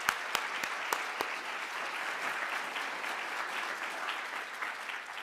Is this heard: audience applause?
yes